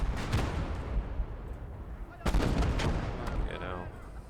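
Artillery and gunfire in the World War II strategy game Call to Arms: Gates of Hell, German conquest campaign: loud repeated booming blasts with rattling shots in between, and a sharp heavy impact midway, continuing throughout.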